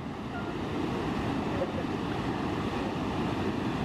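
Heavy water flow rushes steadily over a river weir, a dense, continuous roar at moderate distance with no voices.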